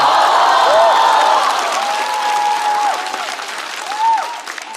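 An audience applauds at a stand-up comedy show, with dense clapping and a few whoops and scattered cheers filling the room, loud and close, gradually thinning out toward the end.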